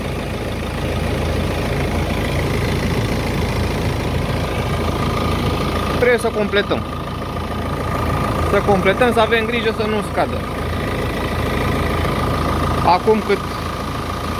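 A Peugeot 308 SW with the 2.0 BlueHDi 150 diesel engine idles steadily and loudly up close, a constant rumble running beneath a man's speech.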